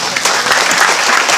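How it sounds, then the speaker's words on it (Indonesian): A burst of clapping from an event audience in Jogja, loud and close, with a voice briefly audible over it. "Tepuk tangan dong."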